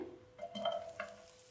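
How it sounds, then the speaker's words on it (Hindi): Chopped onions dropped into a pan of hot oil for chicken handi curry, giving a brief burst of sizzling and a few pan clatters that quickly fade to a soft, steady fry. "अब इसमें ये कटे हुए प्याज डालेंगे"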